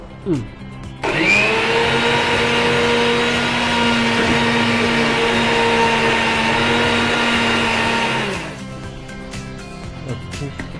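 An electric mixer grinder grinds coconut in a steady, loud, whirring run lasting about seven seconds, starting abruptly and cutting off cleanly, with a brief clatter before it begins.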